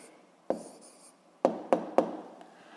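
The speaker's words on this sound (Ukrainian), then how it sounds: "Давайте я тут запишу." Handwriting an answer with a pen or marker during a physics lesson: a few soft, close taps and strokes spaced irregularly over near-silence.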